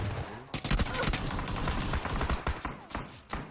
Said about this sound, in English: What the fuck are you guys shooting at?